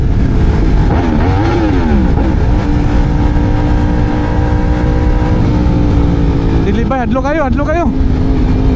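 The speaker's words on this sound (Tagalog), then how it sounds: "Kusog naman ganyan nga motor." A Yamaha R1M superbike engine revs loudly and close, with rising and falling pitch sweeps and a sharp burst of high revs near the end, while people shout and talk excitedly over it.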